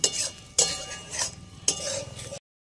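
Coconut milk going into a prawn malai curry in a pan, with a few soft splashes and clinks of a utensil against metal, then a gentle simmering hiss, close and quiet with no speech.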